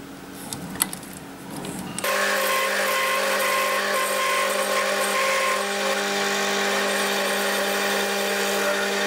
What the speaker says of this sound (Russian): Мой старый добрый токарный станок